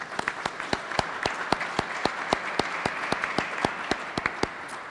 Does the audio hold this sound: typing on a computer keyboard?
no